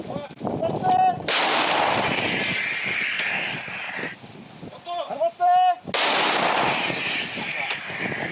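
Two heavy artillery blasts boom out several seconds apart, fired at Russian infantry, each with a long rumbling tail, with brief voices heard between them.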